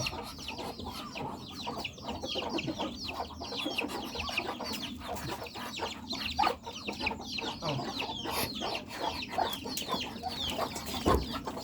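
A flock of farmyard chickens clucks and chatters continuously nearby, with overlapping short calls and occasional louder squawks. A voice is faintly audible underneath.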